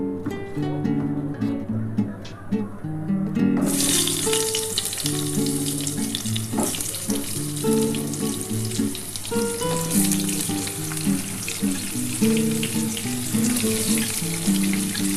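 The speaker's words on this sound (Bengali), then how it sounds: "প্রথমে আমি পটলটা ভাজবো" Pointed gourd (potol) rubbed with salt and turmeric starts sizzling in a hot pan after a few seconds of quieter kitchen noise, then fries steadily with a soft tune playing underneath.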